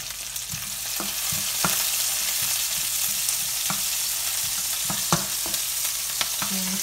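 Onions fry in a pan with a steady broadband sizzle, while a utensil scrapes and taps at irregular intervals, close by and alone.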